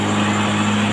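A motorcycle engine running just after being started, revved up into a steady, loud continuous drone with a strong tonal hum, heard alone and close.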